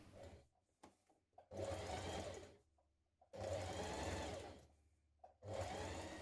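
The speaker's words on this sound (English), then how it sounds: "I'm also going to do a line of stay stitching because the chalk is likely to rub off with it being a shiny fabric" A sewing machine runs stay stitching along shiny stretch fabric for a leotard, in three loud sustained bursts of stitching separated by short quiet pauses with faint handling noises.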